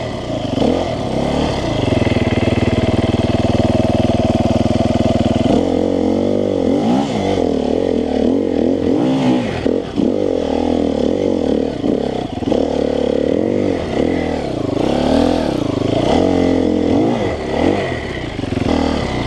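A Sherco 300 SEF-R enduro motorcycle labours up a steep hill climb, its engine droning loud and steady with revs rising and falling and clattering, scraping mechanical noise throughout.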